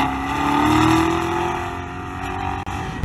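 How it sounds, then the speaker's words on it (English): A Corvette driven hard, its engine note rising and falling in a loud, close growl with a sweeping pitch change as it accelerates, then a brief cut and renewed roar at the end. "And Tom in Texas, he loves doing some spirited driving in his Corvette."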